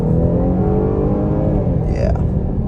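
A 2023 Chevy Blazer RS on a test drive, engine revving to about 4,000 RPM with a snarling exhaust note, a steady loud interior drone with rising tones as the revs climb, a voice briefly heard underneath.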